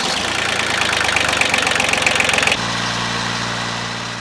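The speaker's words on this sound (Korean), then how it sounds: "시동이 안 걸리던 고물 트랙터도 보물이 됩니다" An old tractor, around thirty years old with failed electrical wiring, runs close by with a steady rumbling idle and a rapid knocking pulse that shifts to a smoother, lower drone partway through.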